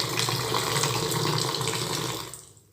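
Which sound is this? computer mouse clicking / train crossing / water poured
water poured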